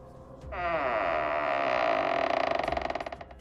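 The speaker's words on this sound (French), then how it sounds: "Et puis, il a ouvert la porte." A massive wooden door creaks slowly open in one long, loud, groaning sweep that rises and holds, then breaks into a rapid stuttering creak as it finishes.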